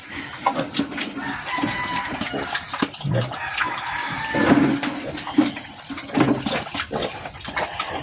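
Chickens, including a hen with two-week-old chicks, cluck and call around a provincial farmyard under a constant high drone of crickets, with occasional scuffling and a rooster-like call in the mix.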